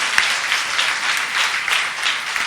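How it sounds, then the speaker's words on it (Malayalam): Audience at a church retreat giving sustained applause, a dense, steady wash of many hands clapping throughout. "നമുക്ക് നല്ലൊരു കൈയടി കൊടുത്ത് ഈശോയ്ക്ക് നന്ദി പറയാം."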